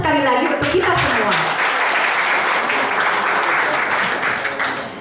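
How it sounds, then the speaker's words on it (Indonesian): Audience applause at the fourth anniversary celebration of Eco Enzyme Indonesia Bersatu, a loud, dense burst of clapping that fills the whole stretch, with a brief voice at the very start. "Maka tepuk tangan sekali lagi untuk kita semua."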